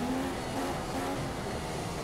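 A Ferrari Formula 1 car engine in F1 2015 during qualifying at the Monaco Grand Prix, a steady high whine held at a constant pitch, loud and close with no talk over it.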